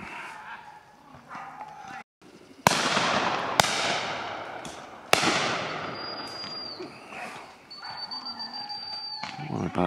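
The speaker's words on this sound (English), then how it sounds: "What a bad shot, Bruce." Shotguns fire at woodland pheasants during a driven game shoot, with three sharp, loud close reports spaced a second or so apart amid outdoor ambience, dogs and people talking nearby.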